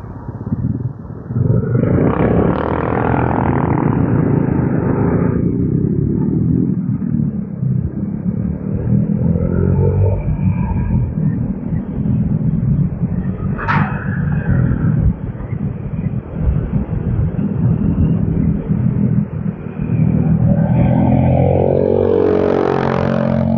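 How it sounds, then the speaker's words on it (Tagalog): A loud motorcycle rolls past on a road, its engine a steady, heavy rumble that stays strong for over twenty seconds, with a brief rise in roar near the end. "Maingay talaga yung ganyang motor."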